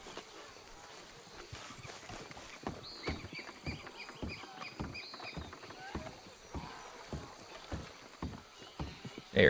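Hooves clip-clop toward the listener in Red Dead Redemption 2, a horse approaching through a swamp, with steady rhythmic footfalls that grow slightly louder over bird calls and faint ambience.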